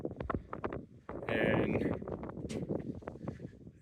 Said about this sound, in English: it's very windy and I don't want to drop my phone